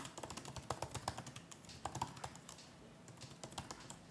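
Quiet, rapid typing clatters on the scissor-switch Magic Keyboard of a late-2019 Apple MacBook Pro 16-inch, with soft, close key taps in quick bursts and a brief pause near the end.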